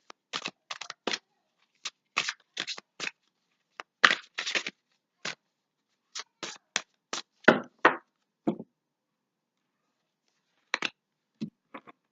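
Tarot cards are handled in short, crisp bursts of shuffling and tapping with gaps of silence between, close and fairly quiet.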